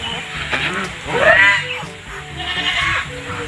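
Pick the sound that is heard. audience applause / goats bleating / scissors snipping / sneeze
goats bleating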